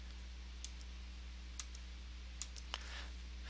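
A computer keyboard is pressed a few times to duplicate a shape in Google Drawings, giving four sharp, separate key clicks over a steady low electrical hum, with no voice.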